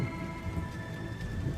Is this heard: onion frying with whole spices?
no